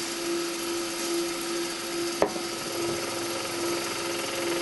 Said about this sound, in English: Just let that cutter run across there